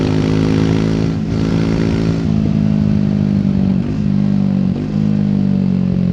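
A 2024 Triumph Speed 400 motorcycle ridden on an open road gives a loud, steady engine drone close by, with brief dips and shifts in pitch as the rider changes gears.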